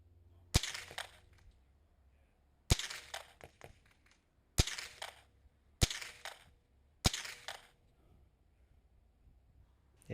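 Five sharp, loud mini rifle shots at the British Mini Rifle Championship, spaced roughly two seconds apart, each followed by faint clatter and echo, with no talk over them.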